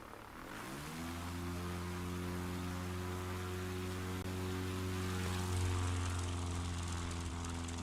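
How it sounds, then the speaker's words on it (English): An NX Cub propeller plane in Microsoft Flight Simulator rises into a steady, droning engine hum as it takes off, the pitch climbing briefly before holding a constant loud buzz. "So one of our NX Cubs taken off, again, getting in that pattern."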